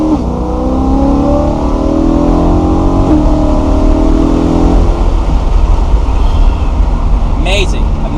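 A BMW E92 M3 sports car engine revs hard and steadily, a loud, continuous roar rising in pitch with rapid gear-driven swells, close by and dominating throughout.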